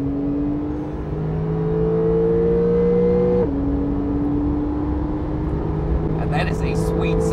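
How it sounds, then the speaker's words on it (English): A Porsche 911 Carrera 4S accelerates hard on the Autobahn, its engine note climbing steadily, dropping briefly at a gear change midway, then rising again, loud and close from inside the car. "that is a sweet sounding engine"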